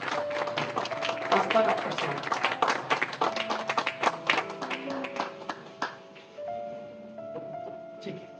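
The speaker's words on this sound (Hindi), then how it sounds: "प्रभु के दास के लिए जोर से ताली बजा के हम वेलकम करेंगे" A church congregation at a thanksgiving meeting claps loudly in welcome, a dense, sustained burst of many hands that thins and fades toward the end, with a steady tone and a few voices underneath.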